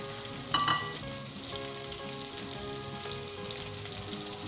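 Garlic and ginger sizzle and crackle in oil in a pan for keema matar, a steady close frying hiss with a brief louder burst near the start and no talking.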